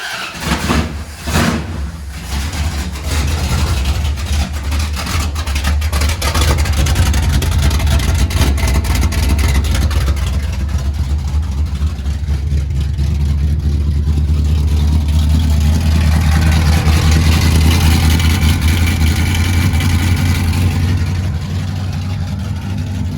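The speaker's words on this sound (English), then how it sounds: "We're gonna start it up without any mufflers first." A 1977 Dodge D200 truck engine cranks and starts with no mufflers fitted, then settles into a loud, deep, rumbling idle that stays steady and close for the whole stretch, with no talking over it.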